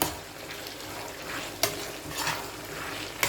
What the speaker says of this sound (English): and just stir. Now I like to stir well